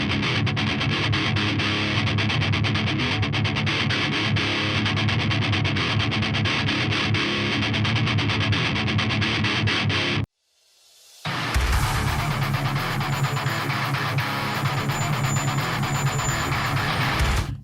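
Heavily distorted metal guitar riff from a song, loud and dense with a steady chugging drive, cutting out briefly to near silence before resuming at full volume.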